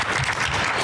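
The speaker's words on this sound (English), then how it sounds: "So let's give a round of applause" Brief burst of audience clapping at a legislative forum, loud and dense from a crowded room, lasting under a second with no speech over it.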